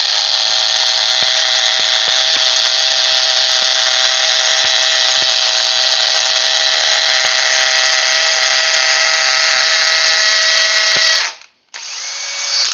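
A DeWalt power drill bores a hole in a speed test against a Milwaukee, running as one long loud high-pitched whir for about eleven seconds before it suddenly stops, briefly cuts out, then spins up again, with no talk.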